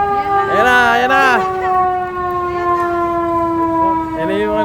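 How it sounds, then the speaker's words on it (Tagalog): A fire truck siren wails loudly and close at a St. Patrick's Day parade in downtown Chicago, holding a long steady tone after an opening rise and fall, with people talking over it. "Ayan na yung fire truck."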